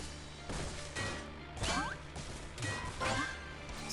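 Cars smash into each other in the Crash Club video game, with several loud impacts and whooshes over a dense, continuous engine and game noise bed, and no talk.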